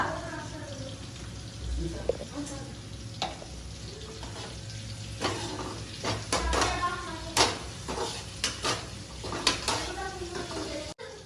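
Asafoetida frying in a pan before prawns go in for a prawn curry, a quiet sizzle with intermittent stirring scrapes and clatters of a utensil that grow busier toward the end, with low talk faintly underneath.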